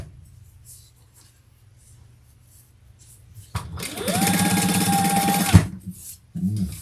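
A sewing machine bastes along the side of a crossbody bag, a close, steady whirring stitch run of about two seconds after quiet handling, ending with a clunk and a brief restart.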